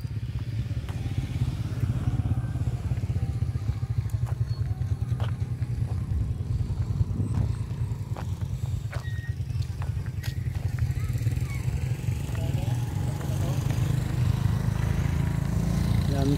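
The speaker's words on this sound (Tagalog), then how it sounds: "Ang daming tricycle dumadaan" Motorized tricycle engines drone steadily nearby as they pass along a road in Barangay Bariga, Banate, Iloilo, with intermittent clatter and a voice speaking faintly in the background.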